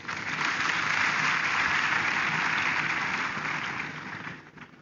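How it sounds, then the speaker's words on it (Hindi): An audience claps loudly and steadily in a hall, a dense wash of applause that holds for several seconds and then tapers off toward the end. "अब जोरदार ताली बजाइए इनके लिए।"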